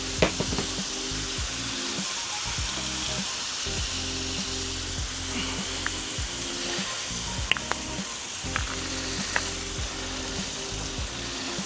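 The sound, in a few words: apples sizzling on hot Weber Genesis gas grill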